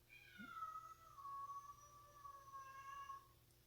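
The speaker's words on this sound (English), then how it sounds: "Our cat sings, guys." A cat lets out a long, wavering, sing-song meow that rises and falls for several seconds, fairly faint and alone, over a quiet indoor hum.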